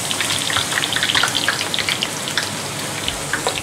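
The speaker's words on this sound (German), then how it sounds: "Hörst du, wie es zischt? Das ist wegen dem Wasser." Potato slices deep-frying in hot oil for homemade chips, a loud, steady close sizzle with dense crackling pops throughout, no voices.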